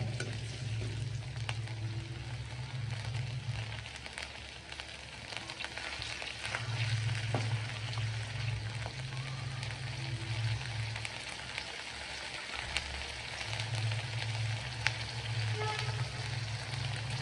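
Shallots with ginger garlic paste fry steadily in a pan, a dense continuous sizzle with faint crackles and occasional low rumbles, close and even throughout with no talking.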